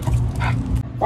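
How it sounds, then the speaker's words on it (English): Dogs at a Kentucky home bark and yip loudly and close by in a quick, excited burst of several sharp calls, with a whimpering edge. "There's a dog somewhere off in the distance barking, and my two have gotta go bonkers."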